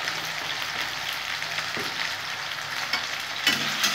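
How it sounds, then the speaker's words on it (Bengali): Salt and turmeric fry in a pan, making a steady, close sizzle like light rain with occasional faint spatters and a slight rise toward the end. "ভালো করে ভেজে নেব"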